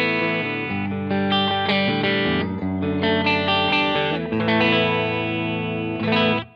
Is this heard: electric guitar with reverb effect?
yes